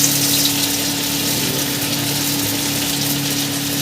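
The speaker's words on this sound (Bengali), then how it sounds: "এখানে আমার তেলটা গরম হয়ে গেছে, এবার আমি একে একে দিয়ে দেবো।" Bread rolls made with roti and potato fry in hot oil, giving a steady, dense hiss and bubbling that holds at an even loudness throughout, with a low mechanical hum running underneath.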